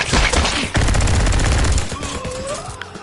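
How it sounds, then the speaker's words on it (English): Rapid gunfire and deflected shots ring out loud and close in the hand-controlled shooter game Guns n Stories, a dense burst that thins toward the end. "the guns are good because you can deflect the shots back"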